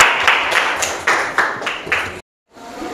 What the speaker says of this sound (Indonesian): Kita kasih aplaus untuk kelompoknya Aling.